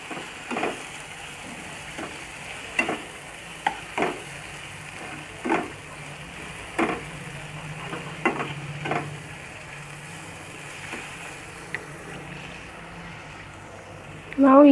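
Salt is stirred into jackfruit biryani in a pan, with scattered sharp clicks and scrapes of a spoon against the pan over a faint background, ending in a louder knock.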